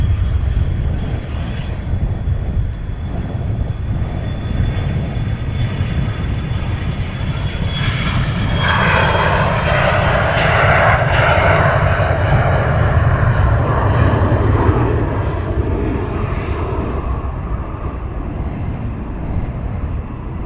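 An EasyJet airliner at Luton Airport rolls down the runway for takeoff. A loud, sustained jet engine roar builds and swells toward the middle, then slowly eases as the aircraft moves off, with no one speaking.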